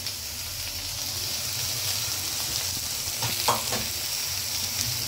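Spring onions and four tomatoes fry in a pan and are stirred. The steady sizzle carries soft scraping strokes midway, all at close range with no voice.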